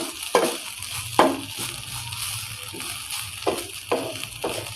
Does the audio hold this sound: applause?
no